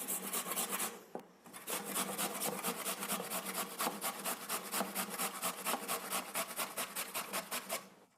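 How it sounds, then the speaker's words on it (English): Raw potatoes are grated on the coarse side of a household grater, giving a close, rhythmic series of rasping strokes that repeats steadily with a brief pause near the start and no talk. "Now I take a regular household grater and just use the coarse side of the grater and grate it coarsely."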